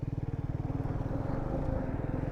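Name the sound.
motorcycle passing by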